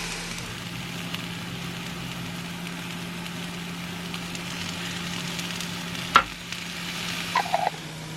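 Minced garlic sizzling in olive oil in a pan inside a camper van, a faint steady hiss over a low hum, broken by a sharp knock and a few small clinks near the end.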